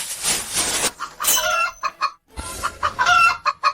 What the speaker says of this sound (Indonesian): Ini ayam kampung dari rumah.